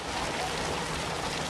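Heavy monsoon rain pours down in Mumbai as a dense, steady, loud hiss of water with no break and no voices.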